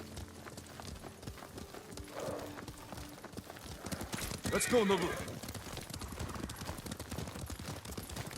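Horse hooves clip-clop beneath a ridden horse in the video game Ghost of Tsushima, a neigh rising midway. Voices talk over the fairly quiet, steady hoofbeats.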